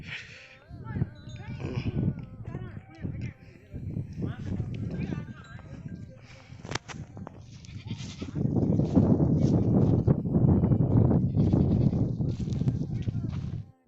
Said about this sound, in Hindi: तो ये देख सकते हैं आप, ये बकरियां हैं यहाँ के स्थानीय लोगों की।